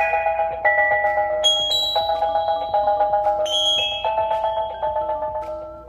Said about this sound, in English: You can either do it through the device that comes with it that you plug in the wall,